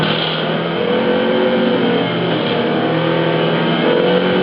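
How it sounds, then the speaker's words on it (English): Loud, sustained car engine roar in Forza Motorsport 4 racing, a steady revving drone, continuous and close, no voices. "It's like hearing the sound of my Nissan Micro."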